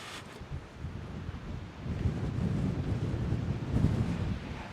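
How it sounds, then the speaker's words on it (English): Wind gusts outdoors on a disc golf course, buffeting the microphone with a low, rumbling roar that grows stronger halfway through, with no speech. "The wind keeps blowing over my tripod, and I've got a group of people behind me."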